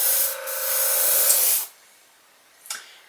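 Spray paint hisses onto a restored fishing lure in one long, close burst, stops abruptly, then a short second spurt follows after a pause.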